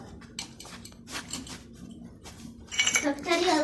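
Plates and dishes clatter near an outdoor campfire, a few sharp clinks and knocks spread through the clip and growing busier and louder toward the end, with faint background murmur.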